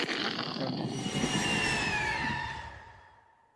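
A stage airplane sound effect in a musical: a loud, steady engine drone with a sweeping whine that holds for a few seconds and then fades away.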